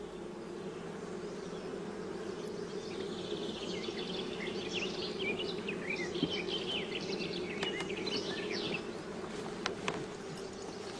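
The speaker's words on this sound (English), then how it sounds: "A comb is removed from the center of the hive" Honeybees hum steadily in an open hive with a comb lifted from the centre of the brood nest, a dense, continuous close buzz with individual bees droning past, all without any voices.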